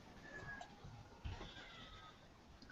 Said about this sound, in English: we have a cat chorus going on behind me now